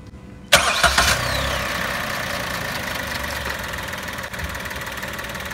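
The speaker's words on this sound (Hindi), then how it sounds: "देखिए आप इसका इंजन साउंड सुनिए।" A Maruti WagonR CNG engine cranks and catches with a few sharp bursts, then settles into a steady, quiet idle that runs on without talk.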